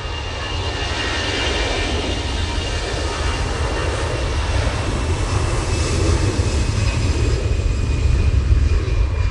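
Airliner jet engines at Manchester Airport as a jet takes off for Barcelona, a loud, close, continuous roar with high whining tones that holds strong and builds slightly toward the end.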